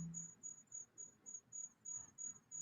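Crickets chirp in a steady pulsing rhythm, about nine evenly spaced trills in a row, faint and continuous with a thin high tone running through.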